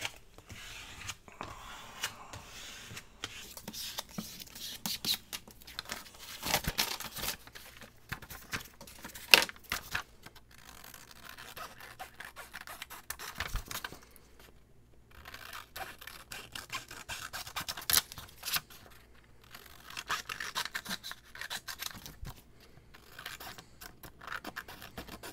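Scissors trim paper for a calendar journal, giving soft, close snips and rustling scrapes in irregular bursts over a quiet room.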